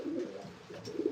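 Racing pigeons in a loft coo in low, rolling bursts while birds scuffle, the cooing close and steady throughout with a few brief louder accents near the end.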